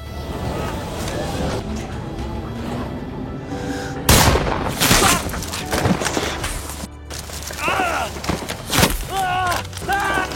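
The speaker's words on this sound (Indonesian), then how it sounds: "Juba menembaki Alan tapi meleset." Gunfire rings out in a tense film scene, with one sharp, loud shot cracking out midway over an ongoing rumble of noise, and voices can be heard around it.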